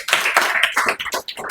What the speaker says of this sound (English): Please give a huge round of applause for him.